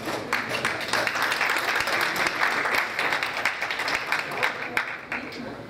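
Applause from an audience standing to salute the national flag at the opening of a session of a legislative chamber: steady, dense clapping at moderate volume from start to end.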